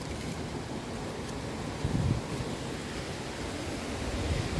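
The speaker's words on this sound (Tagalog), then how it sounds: "Kita nyo yan, ang lakas ng hangin." Strong wind blows outdoors in England, a steady broadband rush with a brief louder gust partway through. No voices are heard.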